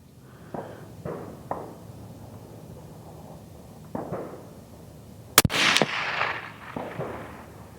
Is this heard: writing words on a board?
no